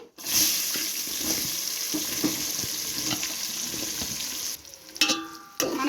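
Onions frying in oil with curry leaves and turmeric: a steady, close hissing sizzle that holds for a few seconds, then drops off, followed by a short clatter.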